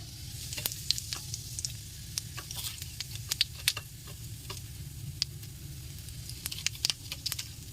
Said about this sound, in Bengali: দেখুন তেলটা গরম হয়ে গেছে এখন আমি তেলের পরে অল্প কিছু জিরে দিয়ে দেবো